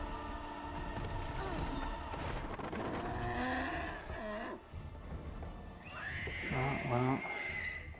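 Horses in a Lord of the Rings film scene neigh loudly in several shrill whinnies, with hoofbeats and rushing action sounds beneath, and people talk over the scene.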